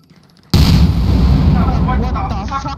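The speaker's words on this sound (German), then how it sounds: "Ja, das war Dynamit!" Dynamite blows up in the video game Bigfoot, a sudden loud blast after a quiet moment, followed by a long roaring rumble and debris noise as a voice starts to react.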